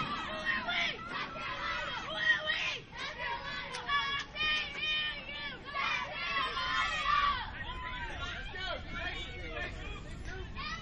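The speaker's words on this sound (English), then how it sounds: "their fans have something to cheer about there. They're excited. Their dugout's excited." Fans and a dugout cheering at a youth coach-pitch baseball game, a loud, lively mix of children's shouts and chatter that swells and then eases off, with voices throughout.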